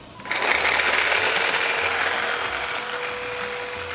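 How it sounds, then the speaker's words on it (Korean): Garlic is ground in a small electric grinder for a seaweed soup meal; after a short quiet start, a steady, close motor whir with a high whine runs evenly to the end. "마늘 좀 갈아놓을까요?"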